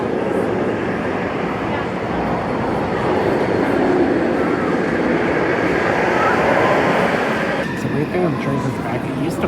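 Fury 325 roller coaster train moving near the station at Carowinds amusement park, a continuous, fairly loud rolling rumble and rattle of the track with someone talking over it.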